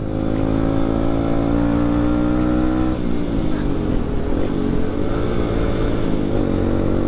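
Motorcycle engine revving steadily while riding, a continuous loud drone with a shift in pitch partway through, close and constant throughout.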